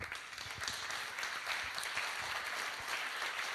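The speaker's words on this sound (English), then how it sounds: "Please, an applause to the sponsors." A conference audience applauds sponsors at a ServerlessDays Milano gathering, a steady, fairly faint wash of clapping that runs the whole time with no pauses.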